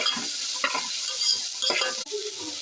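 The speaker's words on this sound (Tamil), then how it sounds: "கொஞ்சோண்டு கருவேப்பிலை போட்டுப்போம். நல்லா சேர்த்து வதக்கிக்கலாம்." Mutton curry masala sautéing with salt and curry leaves gives a steady close sizzle, broken by a few scraping stirs of the spoon against the pan and a brief dip near the end, with no voices.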